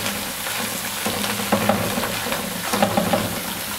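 Spinach wilting in a hot pan, a steady close sizzle and frying hiss running throughout, with a few soft stirring clicks and scrapes near the middle and end.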